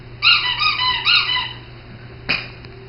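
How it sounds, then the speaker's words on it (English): A squeaky toy gun squeaks three times in quick succession, then once more after a pause; the squeaks are close, loud and high-pitched, over a faint steady hum, with no talking. "the squeaky gun."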